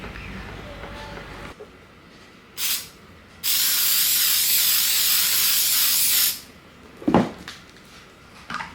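A spray can of paint releases a short hiss, then a long steady spray for about three seconds, followed by a clattering handling noise in a quiet indoor room.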